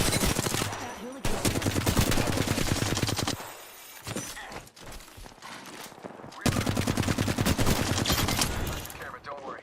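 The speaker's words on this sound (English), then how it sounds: "They're shooting at that hooligan." Rapid automatic gunfire in the Apex Legends video game, dense bursts of close shots with a brief lull in the middle before heavy firing resumes, a voice speaking underneath.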